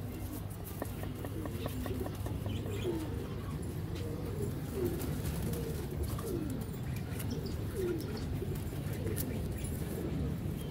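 Pigeons coo in low, repeated, throaty phrases over a busy background, with occasional chirps and light pattering nearby.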